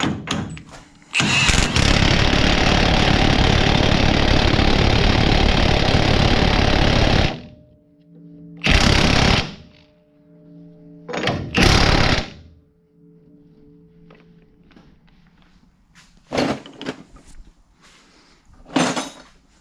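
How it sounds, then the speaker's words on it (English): Several loud bursts from a pneumatic impact wrench tightening a nut on a 2015+ Ford Mustang steering angle kit: one long sustained rattling run, then shorter hammering bursts separated by pauses. "So I'll put it on with the impact"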